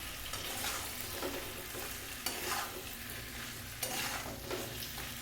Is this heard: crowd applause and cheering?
no